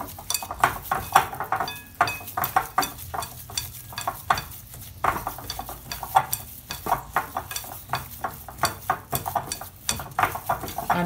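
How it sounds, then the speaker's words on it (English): Hands squelch and squeeze through a bowl of raw meatball mixture in a home kitchen, a steady run of close, wet slaps and squishes repeating about once a second, with no talking. "Get your hand in there and mix it well."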